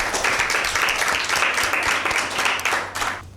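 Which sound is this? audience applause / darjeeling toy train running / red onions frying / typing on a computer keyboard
audience applause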